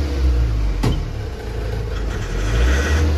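An Ashok Leyland BS4 truck with a pickup problem idles in a steady, loud, low diesel rumble close by, with one brief sharp click partway through and no talk.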